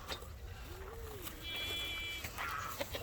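Goats on a goat farm bleat faintly in the distance, with soft voices and outdoor background noise.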